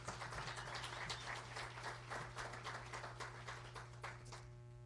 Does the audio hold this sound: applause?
yes